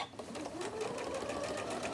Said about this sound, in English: we are sewing these jelly roll strips together